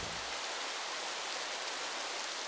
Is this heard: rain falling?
yes